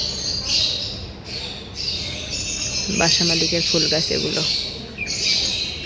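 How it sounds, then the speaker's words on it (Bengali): Pet birds kept at a neighbouring house chirp and squawk continuously, high and fairly close, while a person talks over them for a few seconds. "পাশের বাসায় তারা পাখি পালে, পাখিগুলো সারাক্ষণ এভাবে কিচিরমিচির করতে থাকে।"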